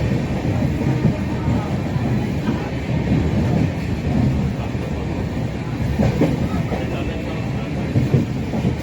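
Shantiniketan Express train running on rails between Howrah and Bolpur, heard from on board as a steady, loud rumble with continuous rattling of the coaches throughout.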